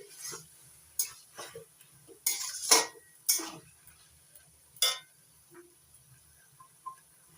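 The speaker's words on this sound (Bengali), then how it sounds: "দুই মিনিট পর ঢাকনা তুলে নিচ্ছি দেখুন বন্ধুরা শাপলা কতটুকু হয়ে আছে নাড়াচাড়া করে দিচ্ছি" A pan lid lifts and a utensil stirs water lily stems cooking in the pan, producing a handful of sharp metallic clinks and scrapes spaced unevenly over a few seconds, close and fairly crisp, with no voice.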